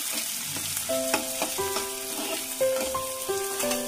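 Beet frying in a pan for a ghonto, a steady close sizzle with scattered stirring scrapes and light utensil clicks through the short stretch, no voices.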